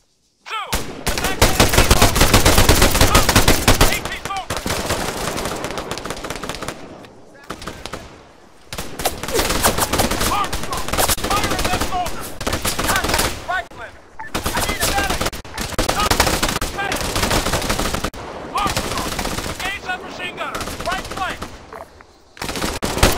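Arma 3 gunfire crackles almost without a break, dense machine-gun bursts and rifle shots in rapid rolling volleys. Brief lulls come between them, and shouted voices sound under the fire.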